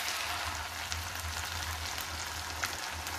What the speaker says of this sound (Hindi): और अब हम डाल देंगे इसमें टमाटो प्यूरी।